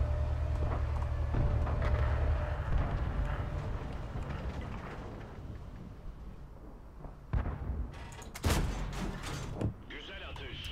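Tank cannon fire in World of Tanks booms amid constant battlefield rumble and engine noise, with a few sharp blasts near the end; people talk over the din.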